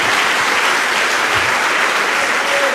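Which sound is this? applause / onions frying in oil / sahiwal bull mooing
applause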